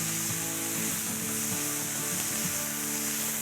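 Ginger and garlic sauté in a pan with a steady, close sizzle, a continuous hiss under a low tonal hum.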